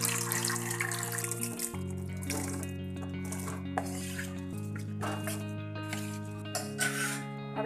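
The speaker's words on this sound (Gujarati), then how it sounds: "હવે આપણે એક મોટું તપેલું લઈશું, તેમાં આપણે પાણી સાથે જ સાબુદાણા નાખીશું." Water is poured into a large cooking pot holding sago pearls, a continuous splashing flow with light clinks of the metal pot, set against steady background music notes.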